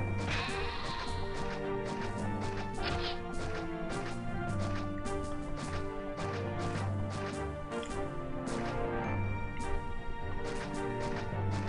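Sheep bleat repeatedly in the Caesar 3 city-building game, standing out over a dense, continuous game soundtrack with scattered crashing and clattering effects and no talk.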